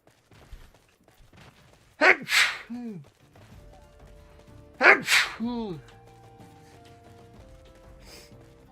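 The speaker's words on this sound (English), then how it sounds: "Alright, sneeze." Two loud, close human sneezes, each a sharp inhaled gasp followed by a forceful burst, come a few seconds apart, with soft game music and ambient sound continuing quietly underneath.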